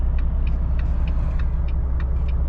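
A passenger car drives past on a Kyiv street, heard from inside a truck waiting to pull out: a steady low engine rumble with faint ticking on top, no talk.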